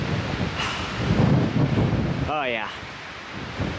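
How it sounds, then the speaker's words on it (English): Cold wind sweeps across an exposed mountain ridge on the Pacific Crest Trail, a steady rushing buffet against the microphone with swelling gusts, while a man gives a short exclamation partway through. "There's a cold wind blowing, definitely."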